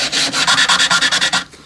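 Sandpaper wrapped around a pen rubs back and forth on the side of a mahogany Harmony Stratotone-style guitar body, about ten quick, even, close scratchy strokes before stopping.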